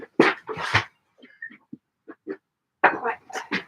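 A dog gives short, high whimpers and whines in brief bursts between bits of nearby conversation, with people talking over the start and end.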